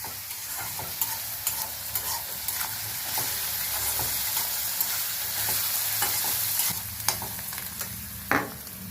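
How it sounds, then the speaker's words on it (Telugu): Sliced onions with salt fry in a pan for a vegetable curry, giving a steady close sizzling hiss broken by occasional scrapes and taps of a spatula stirring, with a sharper clank near the end and no voices. "ఉప్పు వేస్తున్నాను ఉల్లిపాయలు తొందరగా వేగడానికి"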